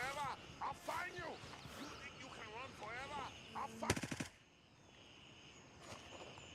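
Gunfire in a PvE shooter game, a short rapid burst of automatic shots near the middle, with people talking over the game audio before it.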